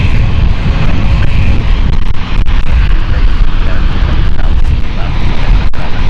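A KLM airliner's jet engines roar loudly and steadily at London City Airport, a broad rushing noise with wind buffeting, sustained throughout.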